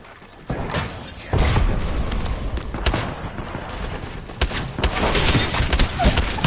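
A grenade goes off during a video game firefight, followed by sustained bursts of loud gunfire and booming impacts that rumble on with short gaps.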